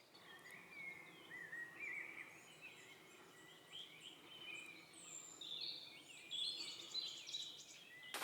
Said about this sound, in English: There's a lot of different birds here.